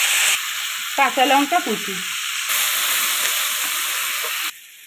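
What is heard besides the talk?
onions and tomato sizzling in hot oil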